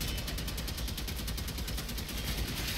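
Rapid pistol fire in Warframe, a dense stream of evenly spaced shots rattling loudly and continuously at close range.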